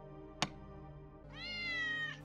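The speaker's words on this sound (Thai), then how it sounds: "สมาชิกใหม่ของเราเลยครับก็จะเป็นน้องแมว" A pet cat companion in the video game Dark Hunting Ground gives a sharp click and then a drawn-out, rising and falling meow, clear and close against a soft steady game backdrop.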